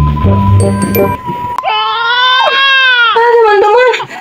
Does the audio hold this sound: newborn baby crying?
yes